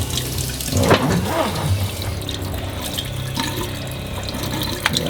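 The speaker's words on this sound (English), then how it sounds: "Test the other features of the sink faucet." Water runs steadily from a sink faucet in a Sprinter van, a continuous splashing stream into the basin with a few louder spurts and drips near the start.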